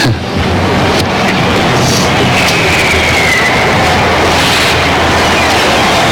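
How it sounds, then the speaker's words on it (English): A vast, dense roar of distant crowd noise from thousands of people cheering in the streets of Paris at New Year fills the air continuously, loud and washy. "Peter, what you are hearing is the sounds of people in the street, thousands and thousands of people cheering"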